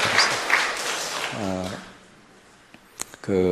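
Church congregation applauding during a sermon, a broad clapping wash over the first seconds that fades out, with a voice speaking over and after it.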